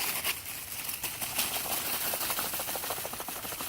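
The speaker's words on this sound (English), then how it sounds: "Let me grab one and see if you can hear the seeds rattling." Dried gourd shaken in a December garden, seeds inside rattling in quick, faint, irregular bursts against steady outdoor background noise.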